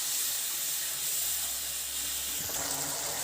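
A small splash of water poured into simmering fish curry masala in a pan, a continuous loud hissing, steamy wash that drops off briefly near the end, with no talking.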